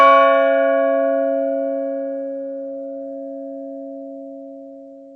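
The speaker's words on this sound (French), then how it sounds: "Victoria entendit le son des cloches de son couvent." A single convent church bell strikes once and its deep, steady tone hangs and slowly fades over several seconds, heard alone with no other sound.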